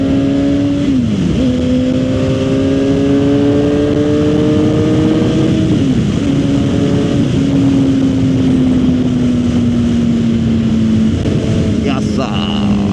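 Suzuki GSX-R 750 motorcycle ridden on a damp road to work: continuous engine drone with gear changes and shifting pitch, heavy wind buffeting throughout, heard from the rider's position.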